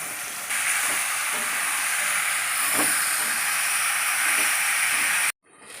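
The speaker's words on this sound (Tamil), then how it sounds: "இந்த கத்திரிக்காய் சேர்த்து வதக்கலாம் அப்படியே கலக்கணும்" Eggplant for a kulambu is sautéed and stirred in a hot pan, producing a loud, steady hiss with a few faint stirring knocks before it cuts off abruptly.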